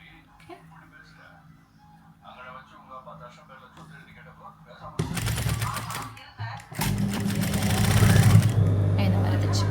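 A sewing machine runs in loud bursts, stitching an elastic skirt waistband over an earlier folded seam, preceded by quieter hand handling and faint background sounds.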